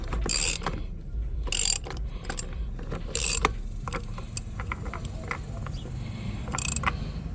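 A ratchet snugs down a nut on a go-kart wheel during bearing replacement, giving four short, close bursts of rapid clicking separated by pauses, over faint background hum.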